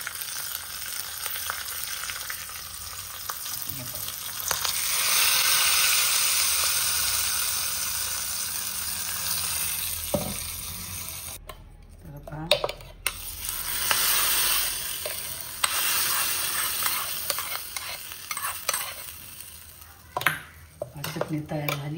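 Mustard seeds, cumin, curry leaves and chili pieces sizzling in hot oil for a chutney: a steady close crackle and hiss throughout, broken by clinks of a utensil against the pan and sharp spits as ingredients land.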